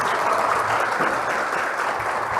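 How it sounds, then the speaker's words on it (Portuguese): A church congregation applauds at a Pentecostal Assembleia service after a woman announced for baptism is cheered on, giving steady, dense clapping from many hands that fills the space without pause. "Palmas para Jesus"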